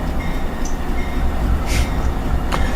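A unit train runs on the HSS SW route in the Run 8 simulator, with a loud, continuous low rumble of rolling stock and brief higher squeals and clanks.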